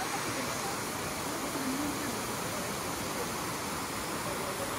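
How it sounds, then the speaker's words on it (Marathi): Steady, dense rushing of a waterfall near Haruna Shrine in Gunma, Japan, fills the whole clip, loud and continuous with no breaks. "छान असा धबधबा, निसर्गरम्य वातावरण."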